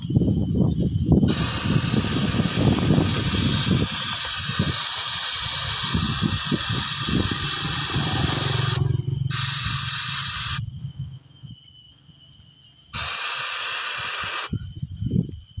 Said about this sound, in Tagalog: So spray natin ito.